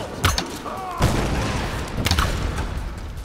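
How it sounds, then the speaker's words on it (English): Gunfire rings out in the Tomb Raider video game, several sharp, loud shots and booming bursts spaced irregularly over a few seconds, with faint noise between them. "I'm taking fire!"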